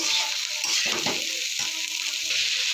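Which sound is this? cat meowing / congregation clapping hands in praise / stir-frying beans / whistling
stir-frying beans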